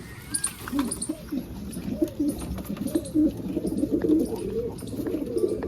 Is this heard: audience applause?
no